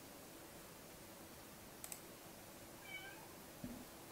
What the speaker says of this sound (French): Nous avons un chat qui miaule.